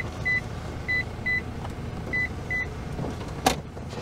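Short electronic warning beeps from a Toyota Land Cruiser Prado as its seats are folded, five evenly spaced chirps over a quiet cabin background, ending with a brief thump.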